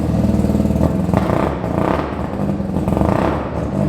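A loud, raw Mazda RX7 engine with its exhaust removed revs and roars continuously with harsh, unmuffled rasp, rising and falling in steady pulses without any talking.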